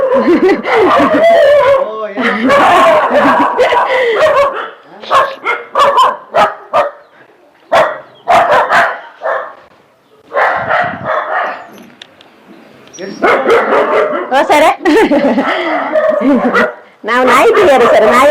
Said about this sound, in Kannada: ನಾಯಿ ತುಂಬಾ ಇದೆ ಸರ್